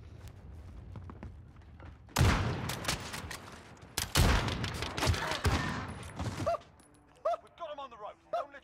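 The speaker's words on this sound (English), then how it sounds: "Oh, I shot you, Buff." Gunfire in a multiplayer shooter video game comes as two loud bursts of rapid shots with thumps between them, and a voice talks near the end.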